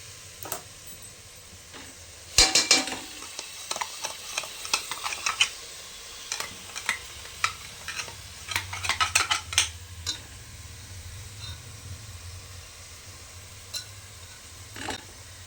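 Spatula scraping and clinking in a pan while onion, ginger-garlic paste and a ground mint, green chilli and coriander paste fry over a high flame for a Bangalore-style veg biryani, with irregular close bursts over a faint low sizzle.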